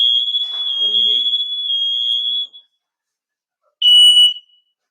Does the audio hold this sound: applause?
no